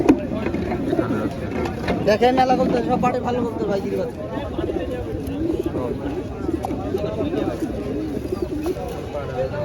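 Pigeons coo at a crowded pigeon market at Katakhali haat in Rajshahi, their soft murmuring calls mixed into steady crowd babble while someone speaks nearby throughout.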